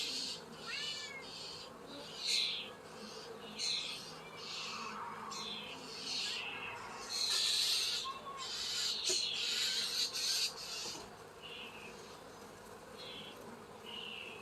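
Honey bees buzzing around an opened small hive during an inspection, a faint, wavering hum with brief louder swells and a few odd chirps and squeaks, close by and without talk.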